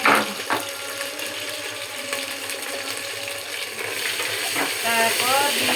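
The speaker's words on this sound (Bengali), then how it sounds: "তারপর নাড়াচাড়া করবো" Cumin seeds and garlic fry in a pan for vegetable khichuri, a loud continuous sizzle with scraping stirs of a spatula, a few sharp clinks standing out near the start and end.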